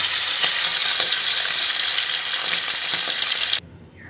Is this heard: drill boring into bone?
no